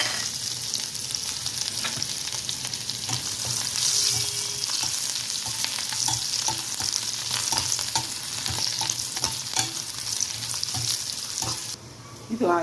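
Garlic and red chilli fry in hot oil in the same oil used for roasting peanuts, a loud continuous sizzle broken by frequent sharp spatula clicks and scrapes, ending in a brief quieter moment.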